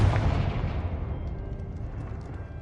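A Confringo fire-blast spell bursts in Hogwarts Legacy, a single loud, close explosion with a deep boom that rolls away into a fading rumble, with no talking.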